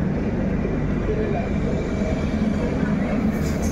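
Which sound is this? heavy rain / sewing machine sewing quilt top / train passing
train passing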